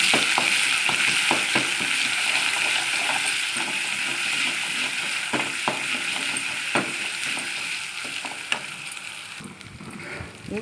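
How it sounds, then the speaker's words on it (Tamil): Ginger and garlic sauté in a hot pan, a steady broadband sizzle with a few scattered stir clicks and scrapes, close and fairly loud, with no talking. "இஞ்சி பூண்டு வதங்கிருச்சுது."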